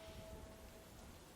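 Rain falls steadily on a town, drumming on weeping willows, a stone church arch and rooftops, a soft, even wash of drops at moderate distance with no voices.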